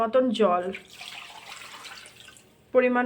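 Water poured into a pressure cooker holding mutton and fried potatoes for a Bengali mutton curry, a steady hissing splash of about two seconds between bits of talk.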